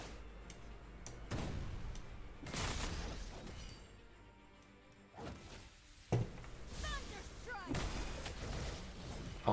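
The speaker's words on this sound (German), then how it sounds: "Jetzt muss gleich der Schuss kommen." Shots and heavy impacts boom through a video game boss fight against a thunder dragon king, several sharp broadband blasts spaced irregularly over busy battle effects, fairly loud and close.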